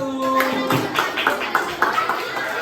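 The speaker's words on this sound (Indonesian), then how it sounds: "Beri tepuk tangan untuk kelompok 1" Students in a classroom clap for a group in a short run of rhythmic, evenly spaced claps, fairly close and moderately loud, with a voice heard at the start.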